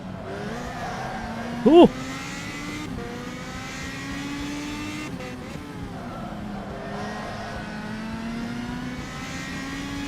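Race car tyres scrubbing and squealing in the rFactor 2 racing simulator, heard alongside a steady, shifting engine drone that runs continuously; a man briefly exclaims once near the start.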